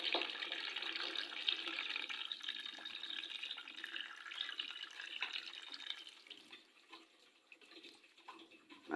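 A homemade 6-volt aquarium water pump pours a steady stream of splashing, gurgling water that eases off toward the end, with faint drips.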